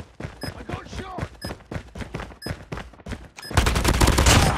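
Rapid gunfire in the mobile shooter Call of Duty Mobile, repeated sharp shots in bursts at a steady rhythm, growing into a dense, louder volley at the end, with brief voice callouts in between.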